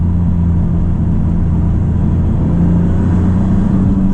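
Turbocharged engine of a 2024 Maserati MC20 while driving, a steady, loud, low rumble held at an even pitch throughout with no talking over it.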